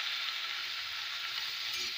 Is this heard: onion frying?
yes